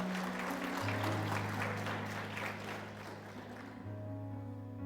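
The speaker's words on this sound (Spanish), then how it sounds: "¿Cuántos aplauden el nombre del Señor?" A church congregation applauds during a sermon, a soft broad patter of many hands over a sustained low keyboard drone, ending abruptly.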